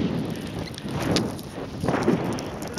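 Strong wind buffets the microphone on a low-visibility walk, a steady roaring rush with gusty swells and no talking.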